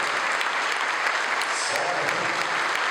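Applause from a church congregation during a priest's homily at a novena, a steady dense patter of many hands filling the space alone for a few seconds.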